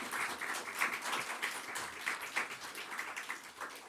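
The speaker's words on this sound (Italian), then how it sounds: "chiedo insomma a tutti quanti un grande applauso" Audience applause for Simonetta Mandis at a presentation of the Musincanto music project, a steady patter of many hands clapping at moderate, somewhat distant level throughout.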